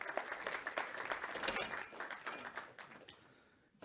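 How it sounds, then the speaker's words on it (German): Brief audience applause for a BlackRock panelist called to the stage at an ETF savings-plan finance panel event; steady, moderately close clapping from a crowd that tapers off near the end. "Bitte kurz einen Applaus."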